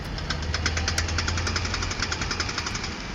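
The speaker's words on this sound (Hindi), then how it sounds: "अचानक गाड़ी के इंजन के पास से कुछ आवाज आती है" A car engine knocks with a rapid, regular metallic ticking over a low running hum, steady and fairly close throughout.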